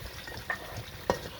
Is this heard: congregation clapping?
no